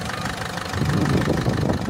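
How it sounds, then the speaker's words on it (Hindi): Diesel engine of a Ford Figo idling after an additive treatment, a steady low rumble with a faint knocking texture, close and continuous for the whole stretch with no talk. "अभी गाड़ी का आवाज़ ऐसे आ रहा है"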